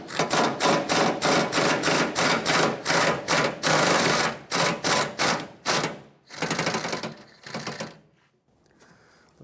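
A 13mm socket on a ratchet turns the bolts inside the rear wheel arch of a 1996-2002 Toyota 4Runner, making rapid, loud, close-up bursts of clicking that pause briefly before a final quieter few clicks.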